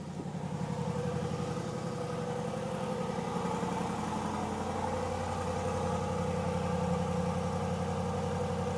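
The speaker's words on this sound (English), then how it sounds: "There's that twin-turbo V8 come to life. Let's go listen to the idle from outside." Aston Martin DBX S SUV with a twin-turbo V8, idling steadily after a cold start, heard from outside the car as a low, even rumble that stays constant throughout.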